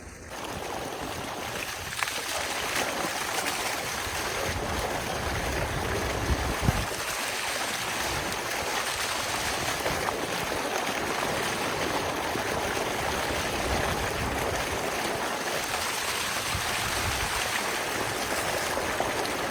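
Clothes rinsed in flowing open water at a farm house, a continuous gushing stream with occasional splashes and sloshing bursts, close and loud, no voices.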